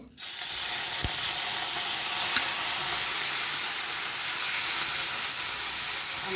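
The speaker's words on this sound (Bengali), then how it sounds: "এবারে আমি চিংড়ি মাছগুলোকে ভেজে নেব কড়াই তেলটার মধ্যে" Loud, steady sizzling of shrimp frying in hot oil in a kadai bursts in at once and keeps up a dense, crackling hiss throughout.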